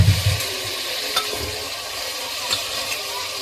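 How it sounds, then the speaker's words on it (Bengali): Chicken pieces tossed into spices frying in a pan give a steady sizzle, with a few soft scrapes and clacks from stirring at intervals, close and moderately loud, no voices. "এবার এর মধ্যে এই যে চিকেনটা দিয়ে দিলাম"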